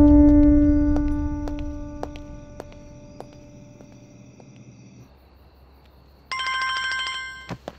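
A telephone rings in a Punjabi film scene: a loud old-style bell rings repeatedly and then fades, followed after a pause by a brighter electronic ringtone burst. No one speaks.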